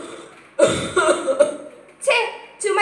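An old man coughs in a theatre stage play, several harsh, throaty bursts in uneven succession, close and fairly loud, with brief pauses between fits.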